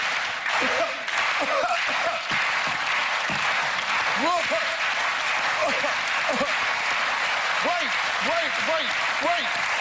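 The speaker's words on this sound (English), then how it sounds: "can I please have a slow hand clap from everybody as we attempt to do this?" An audience on a magic competition show claps slowly and in unison, steady hand claps ringing out over loud, continuous crowd noise throughout.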